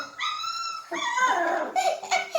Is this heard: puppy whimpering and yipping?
yes